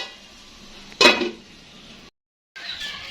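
Plates and dishes clatter in a home kitchen during pickle-making, with a brief loud clink burst at one point amid low background noise and a short silent gap.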